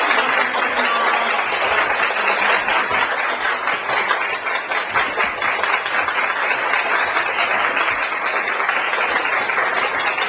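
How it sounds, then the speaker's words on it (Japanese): A live audience applauds steadily to welcome guests onstage at a Japanese press event for a photography project, with dense, even clapping throughout and faint voices mixed in. "それでは大きな拍手を持ってお迎えください"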